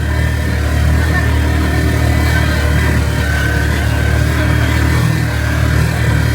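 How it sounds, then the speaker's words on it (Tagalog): A vehicle engine labors steadily on a road during a land tour in Coron, a loud continuous mid-pitched drone that holds without letup, with faint voices now and then. "Laban na laban yung makina ni Kuya."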